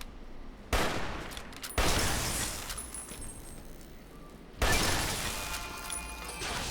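Heavy automatic gunfire in Fallout: New Vegas as Deathclaws are shot: loud bursts of rapid shots that start abruptly, sustain for several seconds, pause, then resume with another long volley.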